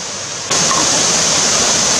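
Long Creek Falls, a waterfall beside the Appalachian Trail, roars as a loud, steady broadband rush that jumps in suddenly about half a second in and holds constant, with no voices.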